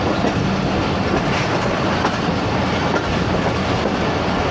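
The 13UP Awam Express rolls past on a loop line with a loud, continuous close rumble and clickety-clack of wheels over rail joints, without a pause.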